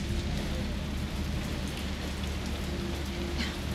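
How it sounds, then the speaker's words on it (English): Steady rain falling outside an open window, a dense, even hiss of drops on surfaces with a low rumble underneath, continuous and moderately close throughout. "It's raining outside right now."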